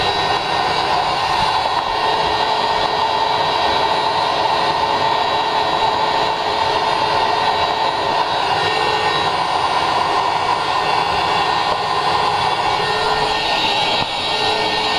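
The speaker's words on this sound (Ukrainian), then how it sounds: "Вон стружки тут летить, видно, як пилісос її" A workshop vacuum cleaner runs steadily and loudly throughout, its broadband roar drawing up metal shavings while the intake manifold of a 2.4 MultiAir Fiat 500X is drilled nearby; no speech is heard.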